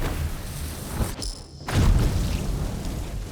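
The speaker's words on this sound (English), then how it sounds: "He hurt himself with mass corpse explosion." A mass corpse explosion spell in the Divinity: Original Sin II game lands as a single deep boom and thud, followed by a rumbling wash over steady background noise.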